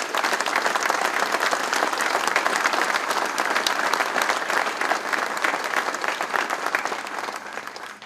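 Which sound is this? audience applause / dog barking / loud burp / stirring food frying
audience applause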